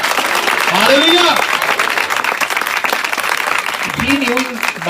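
An audience at a sermon claps in steady, dense applause, with a voice calling out over the clapping at the start and again near the end.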